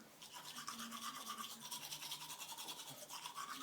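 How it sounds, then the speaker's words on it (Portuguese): A child brushes their teeth with a toothbrush, a steady rapid scrubbing rhythm heard up close and continuous throughout. "Vai, escovando o dente."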